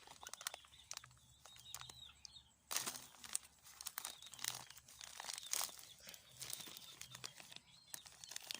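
A plastic nursery bag being torn and crinkled to free gotu kola shoots growing through its side, giving faint, close rustles and sharp crackling rips in irregular bursts, with a louder tear partway through.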